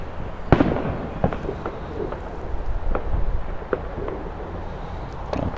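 Fireworks on bonfire night near Goodison Park, Liverpool, go off outdoors as a scatter of sharp bangs and cracks, some near and loud, others farther off, over a constant windy outdoor rumble.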